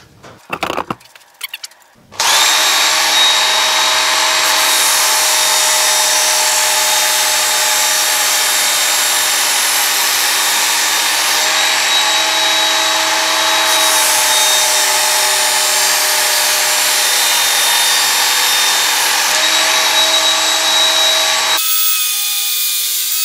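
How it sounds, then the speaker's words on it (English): A Work Sharp freehand sharpener grinds along a Tramontina 18-inch machete blade, reprofiling the edge with a steady, loud abrasive whine and rasp that runs almost continuously after a short burst of handling noise. "I'm going to use the work sharp freehand and try and reprofile this blade a little bit better"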